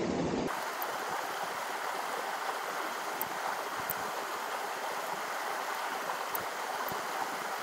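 A mountain river in Kiso flows where it splits into two channels, a steady rushing wash of water heard close and continuous with no talking.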